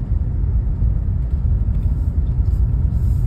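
Chery Tiggo 5x Pro climbing a steep uphill grade in drive mode at roughly 1,500 to 2,000 RPM, giving a steady, loud, low engine rumble with road noise throughout and no talking.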